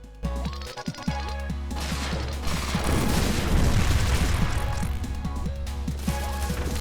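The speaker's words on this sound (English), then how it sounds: "I always love blowing up background enemies because the explosion sound is so well done and satisfying" Explosions of background enemies in the shoot-'em-up game Risk System, a dense burst of crashing, booming blasts that swells to a loud rumbling peak midway and then tails off.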